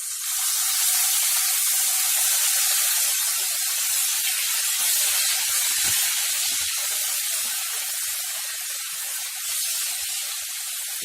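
Onion paste from three medium onions hisses and sizzles loudly in hot oil for spicy taro root, a steady close, continuous frying crackle with no talking.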